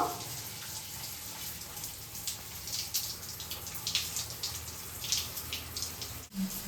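Tap water runs steadily during a home bath while hair is washed, a continuous splashing hiss with brief fluctuations and a short drop near the end, with no talking.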